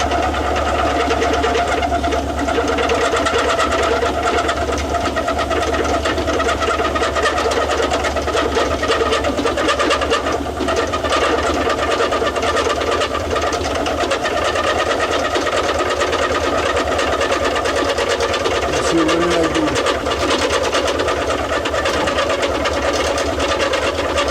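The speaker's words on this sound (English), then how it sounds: "I could do this kind of milling. Yeah, making another heavy cut." A Kohala Iron Works milling machine takes a heavy cut, giving a loud, continuous grinding drone with a low mechanical hum that holds steady throughout, close by and alone.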